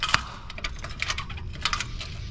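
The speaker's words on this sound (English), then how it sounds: "let's get keys" Keys jingle and clink in short metallic bursts, a sharp rattle near the start followed by lighter intermittent jangles, close by and with no talk over them.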